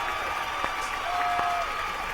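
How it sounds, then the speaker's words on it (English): An audience gives the winner of a calypso competition a brief, steady patter of applause at a virtual concert, a dense, even wash of claps with no voices over it. "So let's give our winner a little round of applause."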